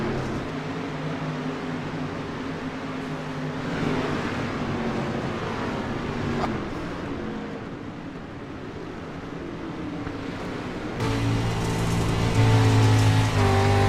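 Race cars roar around a short oval track during a Friday night event, a broad, steady engine drone with rising and falling passes. The din swells louder near the end.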